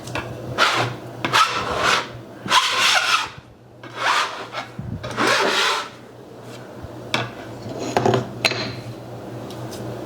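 Pasta dough is worked by hand with rhythmic pushes and folds, each stroke making a dry rubbing, scraping sound against the surface, close up and separated by short pauses.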